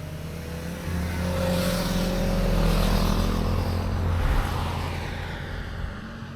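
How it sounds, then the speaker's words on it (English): Two motorcycles and a Porsche head downhill on a mountain road near Mount Fuji, their engines swelling as they approach and pass close by, then fading away. "Two bikes and a Porsche heading down,"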